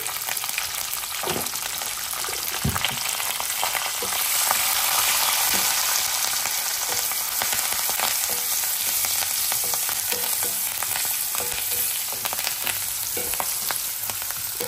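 Curry leaves, dried red chillies and turmeric tempering in hot oil in a pan for lemon rice, a loud continuous sizzle and crackle with scattered pops and stirring scrapes throughout.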